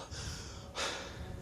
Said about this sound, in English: Gonna hear a lot of heavy breathing from my character in this playthrough.